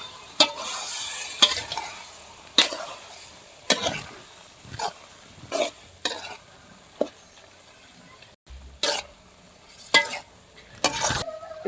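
A spatula stirs and scrapes through palak (spinach) curry frying in a pan, a series of sharp strokes with sizzling in between, close and clear, no voices.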